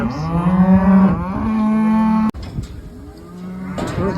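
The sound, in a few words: home-raised calves mooing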